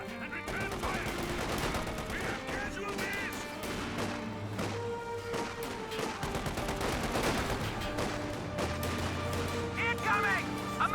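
Rifle and machine gun fire crackles in Company of Heroes 2, with repeated sharp bursts and scattered explosions spread across a dense battlefield mix, while a voice talks over the combat.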